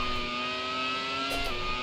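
Race car engine in the sim racing game Automobilista, set up as a classic Grand Prix car, holding a steady high-pitched whine with a brief shift in pitch near the end, loud and continuous with no talk.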